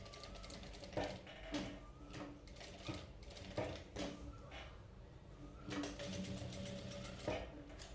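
A sewing machine stitches invisible piping on a cut-work blouse neckline, running in close, steady bursts of mechanical whirring with short pauses and clicks between runs.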